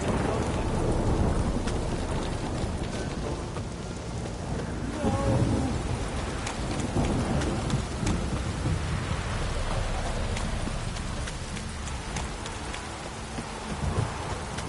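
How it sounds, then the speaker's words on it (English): A heavy downpour from The Witcher 3 roars on continuously, with rain drumming on surfaces and rumbling thunder rolling beneath, loud and close with no pause. "This downpour's a bastard,"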